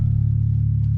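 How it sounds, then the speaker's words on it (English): A bass guitar plucked dry with no effects, a steady low, sustained tone held for about a second, close and alone. "You can tell it's just me plucking the bass."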